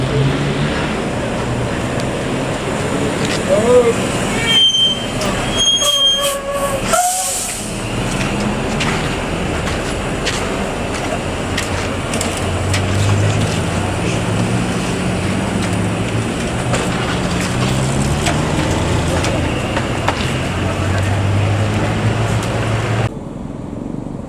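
An NPM Excellent intercity bus pulls into the Budayak Solok bus terminal, a steady broadband engine and road rumble running throughout with a few sharp horn-like tones near the start, busy terminal ambience, no speech.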